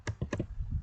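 A few crisp computer keyboard keystrokes in quick succession while working in an Excel spreadsheet, ending on a firmer press of the Enter key, close and fairly quiet.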